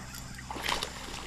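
A largemouth bass strikes a popper lure on the shallow surface of Lake of the Ozarks near a kayak, a single brief splash bursting out of a low watery background, with no talk.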